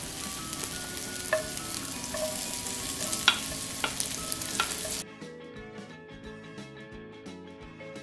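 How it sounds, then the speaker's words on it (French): Minced garlic, leek and chili sizzle in hot oil for Korean-style soy sauce mushrooms, a dense crackling fry with occasional pops and stirring scrapes. It then drops to quieter, softer sizzling. "on va faire de l'huile d'ail en même temps avec du poireau et des piments"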